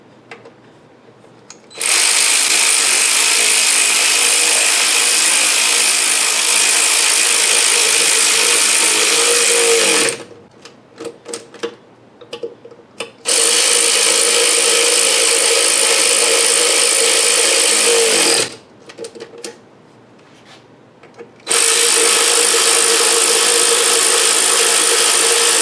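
Ignition coil screws on a Ford Mustang 4.0L V6 are run down with a ratchet, giving loud, close, rapid clicking in two long bursts and a third starting, separated by short pauses with lighter handling taps.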